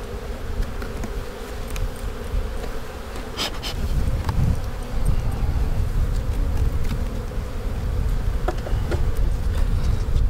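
Dense buzzing of a massive number of bees in a strong, boosted colony hive, a continuous close drone with occasional louder passes of individual bees nearby.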